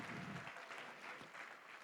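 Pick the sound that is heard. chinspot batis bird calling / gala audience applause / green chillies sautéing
gala audience applause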